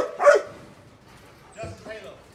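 A nine-month-old female dog named Elsa barks in a kennel yard, one sharp bark followed about a second later by two quicker yips, with people talking faintly nearby.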